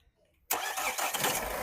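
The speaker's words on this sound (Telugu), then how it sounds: "సింగిల్ సెల్ఫ్లో బండి స్టార్ట్ అవుతుంది," A 2019 Mahindra XUV300 W8(O) diesel catches on a single crank, and its engine bursts into a loud, steady clattering idle close by after a brief moment of near silence.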